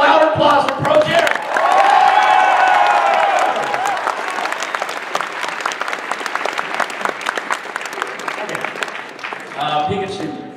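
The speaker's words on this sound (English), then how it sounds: "I need a louder applause for Pro Jared." A convention panel crowd at MAGFest 2014 bursts into loud applause with cheers and whoops, sustained clapping that tapers toward the end as a voice returns.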